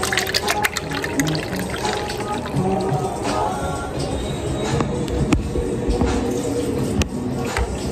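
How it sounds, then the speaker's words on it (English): Chicken broth pours into a pot holding turkey tail in a home kitchen, a continuous liquid splashing and gurgling close by, with a few sharp clinks along the way. "Now I'm going to go ahead and add my chicken broth to my turkey tail."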